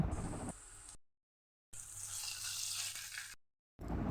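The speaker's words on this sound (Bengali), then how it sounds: "তেল গরম হয়ে গেছে, থেতো করে রাখা রসুন দিয়ে দিলাম।" Crushed garlic dropped into hot mustard oil gives a close, steady sizzle in two bursts broken by short silences, with no talking.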